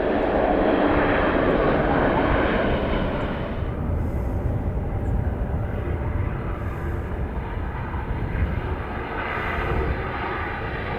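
Airliner arriving to land on runway 26 right at Vancouver airport, a loud, broad engine roar that slowly eases and settles into a steady rumble as the plane passes near.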